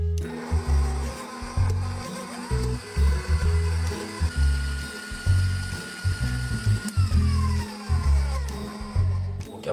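An electric mixer beats soft butter with sugar in a bowl, its motor whirring and grinding in short, uneven bursts with brief pauses, close and fairly loud.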